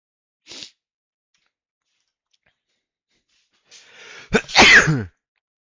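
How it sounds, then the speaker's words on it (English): A quick sharp sniff, a pause of silence, then a sudden loud sneeze preceded by a short intake of breath, close up. "that was a sneeze."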